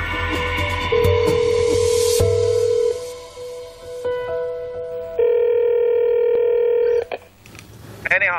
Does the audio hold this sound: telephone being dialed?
yes